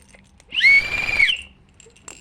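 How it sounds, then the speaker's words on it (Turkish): One loud, shrill emergency earthquake whistle blast lasting under a second, close and piercing, in an otherwise quiet room. "Bu da böyle bir tane depremden kalma şey için düdük."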